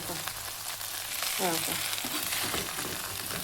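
Potatoes frying in oil over a low flame sizzle steadily up close, with occasional stirring scrapes and a brief muffled voice partway through.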